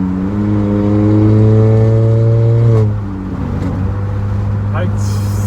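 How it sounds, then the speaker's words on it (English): Turbocharged 1.5T engine in a Honda Accord Sport with intercooler resonator delete pulls hard in sport mode, a strong steady droning note that climbs then drops as it eases off, followed by a lower rumble and a brief hiss. "Wow, sport mode, that's stage 2. I hear that turbo, guys."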